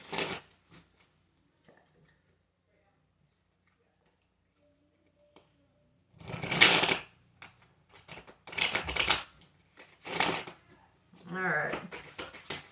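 A deck of tarot cards is shuffled in several short, brisk riffling bursts separated by pauses. The shuffling is close and fairly loud against an otherwise quiet room.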